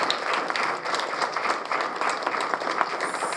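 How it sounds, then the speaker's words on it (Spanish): An audience applauds at the close of a catalog presentation, with dense, lively clapping that continues steadily from start to finish. "Aplauso por favor a todos."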